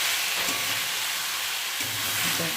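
Snake gourd cooks with onion in a pan, giving a steady hiss and sizzle of frying that runs continuously at low to moderate level, with a few soft bumps, no speech.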